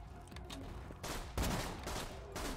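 Pistol gunfire in a video game rings out in several loud broadband bursts, the heaviest shot about midway through, over a steady game background with no talking.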